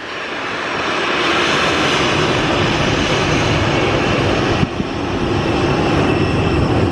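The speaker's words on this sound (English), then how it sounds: "here we go with the private 737" A private Boeing 737 jet at Luton Airport roars loudly and steadily nearby, a broad sustained engine rush that swells in the first second and holds throughout.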